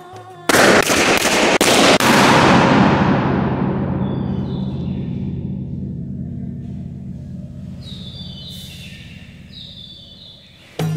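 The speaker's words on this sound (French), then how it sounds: "Nous avons enregistré une centaine d'explosions de ballons dans les chambres avec nos sonomètres." Several sharp balloon bursts in quick succession inside a cave chamber, each a loud crack followed by a long reverberant decay, with faint tones later in the clip.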